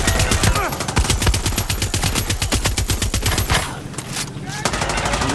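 Rapid bursts of a vehicle-mounted turret machine gun firing in the video game Far Cry 6, loud and close, with a short pause before the fire resumes.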